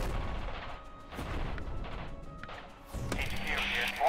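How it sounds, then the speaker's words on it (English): Artillery barrage in the Radio General strategy game, with several dull booms and impacts spread across a few seconds under a steady background rumble, fairly distant, with a brief radio-like tone near the end. "Artillery firing at Foxtrot."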